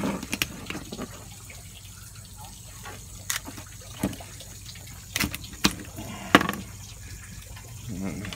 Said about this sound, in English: Give it a little rinse, and you're ready to go.